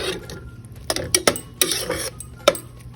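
A spoon stirs cooked dhal rice with ghee in a pressure cooker pot, giving soft squelching and scraping. Several sharp metallic clinks ring out at uneven intervals, close by.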